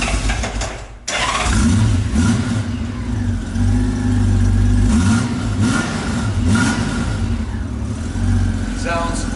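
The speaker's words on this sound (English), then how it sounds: "Let me fire it up real quick so you can hear it." A 1998 Honda Goldwing GL1500SE motorcycle with dual exhaust and a sidecar cranks and fires, then settles into a loud, steady, smooth rumble that swells slightly as it revs, close by with no talk over it.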